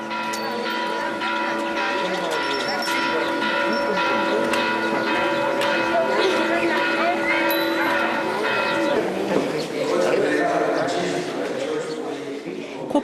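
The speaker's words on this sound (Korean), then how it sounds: "예배의 시작을 알리는 종이 울리자" Church bells in Guatemala ring steadily and resonantly throughout, announcing the start of a service, their overlapping tones ringing on in a continuous, layered peal.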